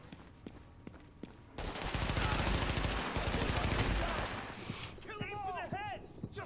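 Gunfire in the video game The Division erupts in a dense, loud burst of rapid shots lasting a few seconds after quieter footsteps, then fades as a voice is briefly heard.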